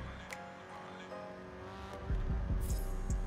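A Nissan S15 race car launching at the start of a Forza Motorsport 7 race: a faint engine hum first, then louder revving and tire squeal with short skids near the end.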